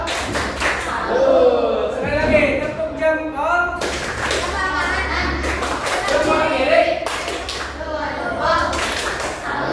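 Elementary school children in Tasikmalaya do a thumb-clapping routine, bursts of sharp claps and taps alternating with a teacher's voice and children's chanting, close and lively.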